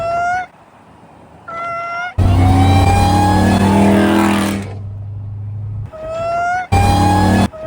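A supercharged Dodge Charger Pursuit roars past close by, its engine note loud and then falling away. Short, repeated tonal whoops sound before and after the pass.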